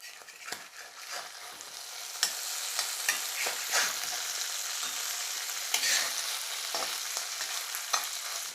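A fish egg fry sizzles in a frying pan as it is flipped and stirred, a steady soft crackle broken by repeated scraping and tapping clicks, fairly faint and without talk.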